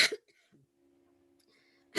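A speaker giving a talk on microgravity research coughs in two short, sharp bursts, one at the very start and one at the end, with near silence between them.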